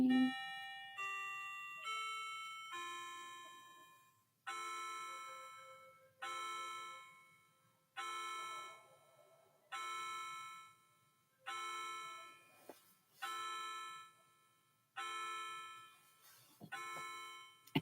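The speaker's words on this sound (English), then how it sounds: "Let's count the chimes" Clock chimes strike one after another in a steady, evenly spaced series, each bright ringing tone decaying before the next, with a faint voice murmuring underneath.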